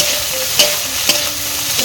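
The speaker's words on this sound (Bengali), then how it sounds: "দেখো চিংড়ি মাছগুলো ভাজা হচ্ছে এখন" Prawns fry in curry masala in a pan, giving a continuous close sizzle punctuated by three sharp scraping stirs of a spatula, spaced roughly half a second apart.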